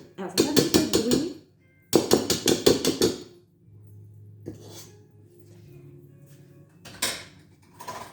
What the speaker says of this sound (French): avec un tamis, on va incorporer le mélange sucre glace et poudre d'amande